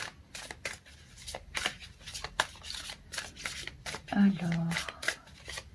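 Oracle cards are shuffled and drawn during an intuitive love reading, with a rapid run of crisp riffling flicks and slaps heard under a woman's speech.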